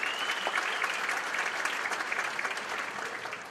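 Conference audience applauding a speaker, sustained close clapping from many hands at an even level that tapers slightly toward the end, with no speech over it.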